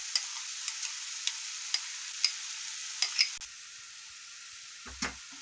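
Milk cream (malai) being stirred into carrot halwa (gajar pak) cooking in a pan: a soft, steady sizzle under regular light scrapes and clicks of the spoon, with a slightly louder knock near the end.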